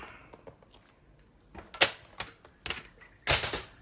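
A paper trimmer slides and cuts through cardstock, giving a few sharp, close clacks and scraping strokes that stand out over quiet handling noise.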